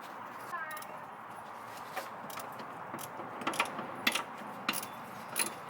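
Metallic clicks and ratcheting turns sound intermittently while sway bar bushings are tightened with an Allen key on a Nissan Xterra, Titan or Armada front suspension, sharp close ticks growing louder toward the end.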